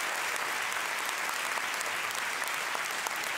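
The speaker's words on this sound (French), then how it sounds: "Est-ce qu'on peut applaudir très fort Guillermo Guy, s'il vous plaît, qui a joué dans le noir?" Audience at a comedy stand-up show applauds a performer, a steady even wash of many hands clapping, quite faint and distant, with no talk over it.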